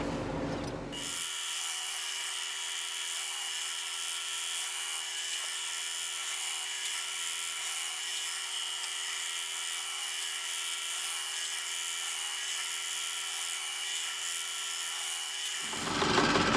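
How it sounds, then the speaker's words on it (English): A drill press fitted with a 13/64 drill bit runs steadily for about fifteen seconds, a close, continuous high whine with a faint low hum underneath, starting and stopping abruptly, with no talking. "I'll put a drill bit in the drill press, and then we'll go over there and drill these holes"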